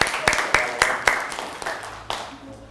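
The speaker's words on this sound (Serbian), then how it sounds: "Veliki aplauz za naše gosta danas." Clapping welcomes a guest at a primary school: a run of sharp, evenly spaced hand claps that slowly fade, with a voice heard near the end.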